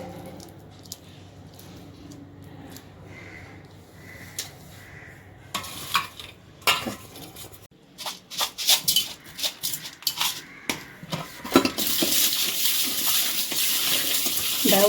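Prawns are washed with salt under running water in a kitchen, with soft trickling, wet rubbing and clinking of a pot or bowl, ending in a louder rush of tap water, with no voices.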